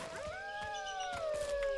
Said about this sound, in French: Ah, il y a un loup là devant.